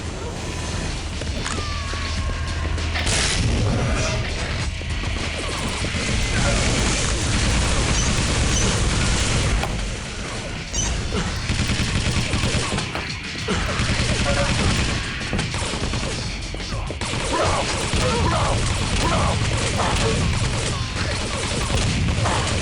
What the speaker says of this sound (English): Ah, you're shooting me.